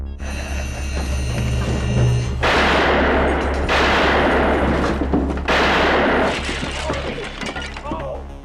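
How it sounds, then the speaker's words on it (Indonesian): Several sharp gunshots crack amid loud, dense western-movie action noise, with voices and thuds mixed in. "hanya dengan 3 tembakan, si Kalem pun berhasil menghabisi ketiga preman tersebut"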